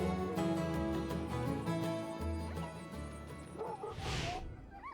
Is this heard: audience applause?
no